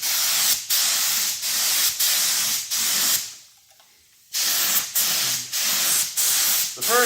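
A spray gun lays a light first coat on a bumper cover in short, repeated hissing bursts of about half a second each, separated by brief breaks, with a longer silent pause midway.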